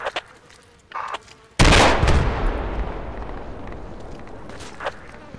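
Gunfire in the military shooter game Project Reality: a few sharp distant pops, then one loud close blast with a long rumbling echo that fades slowly, followed by another faint shot.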